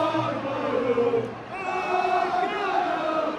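A football crowd at a Sheffield Wednesday versus Plymouth match roars and chants in the distance, a sustained swelling mass of voices with rising whoops and cries.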